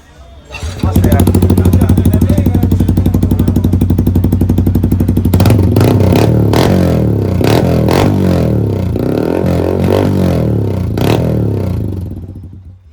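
Yamaha MT-15 motorcycle fitted with an Austin Racing full-system aftermarket exhaust, revving hard and close with a loud steady drone, then rising and falling in sharp throttle blips, with voices partly over it.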